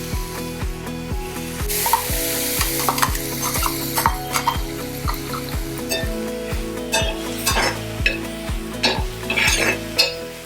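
Ground fenugreek-style chutney paste hitting hot tempering in a pan, sizzling and frying while a spoon stirs and scrapes in a steady rhythmic beat, close and fairly loud with no talk.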